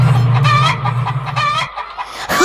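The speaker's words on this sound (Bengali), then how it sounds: "এই খাঁচার মুরগিগুলোকে সব কটা দূর করে দিন এক্ষুনি।" Caged chickens cluck close by in a busy run of overlapping calls, with a drawn-out crow-like squawk mixed in over a low steady hum; the flock falls briefly quieter near the end.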